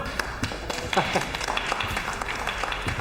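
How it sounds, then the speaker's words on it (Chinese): A small group claps to welcome someone arriving in an office in a Chinese legal drama: a brief burst of scattered, close hand claps, with voices over it throughout. "鼓掌欢迎！"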